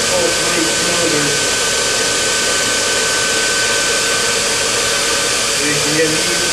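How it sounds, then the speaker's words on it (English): A grinding wheel takes the burrs off a damascus steel blade, producing a loud, steady whirring drone that runs unbroken from start to finish. "I just took it over to one of the other wheels and just kind of took the burrs off"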